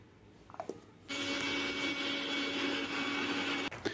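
An electric mixer grinder whirs loudly and steadily while blending poppy seeds, green chillies, ginger and cumin with a little water into a paste, starting after a brief clatter and running unbroken to a sudden stop.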